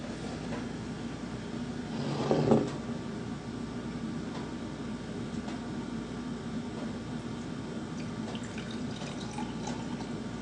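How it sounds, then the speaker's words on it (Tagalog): Water is poured into a cooking container until it is half full, a steady, moderately soft trickle with a louder splash early on, continuing alone without talk. "ay lagyan mo lamang ito ng tubig, kalahati lamang"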